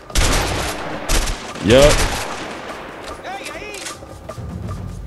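Gunfire in the video game A Way Out, rapid bursts of shots mixed with in-game effects and a loud swelling sound, heard under someone talking.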